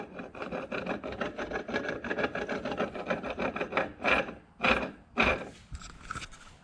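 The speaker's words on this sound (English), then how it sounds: "You're not supposed to hear any catching or grinding at all." Close, rhythmic scraping and grinding as a worn supercharger snout from an LSA engine is turned by hand, with a few sharper, louder rasping strokes toward the end.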